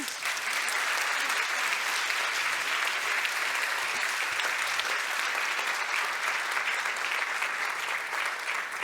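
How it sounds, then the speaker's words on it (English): A large crowd applauds steadily, a dense, even patter of clapping that continues without a break. "I would like to have an applause for them."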